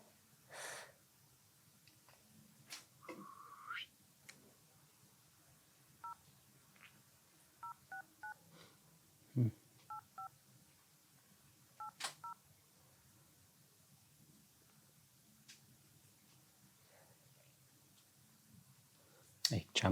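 Telephone keypad tones beep in short separate bursts, a few paired presses spread across the stretch against a quiet room with faint breathing and clicks.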